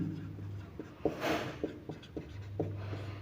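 Pen or pencil writing on paper during a Class 6 maths lesson on circles, a series of short soft scratchy strokes in an irregular rhythm, close and fairly quiet over a low background hum, with no talking.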